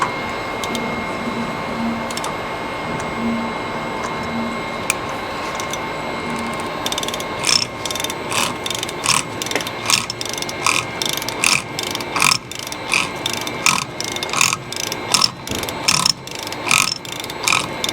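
A ratchet and socket tighten the rear hub nut on a Ford full-floating Dana axle. At first there is a few scattered clicks, then rapid bursts of sharp ratcheting clicks follow in repeated strokes, loud and close.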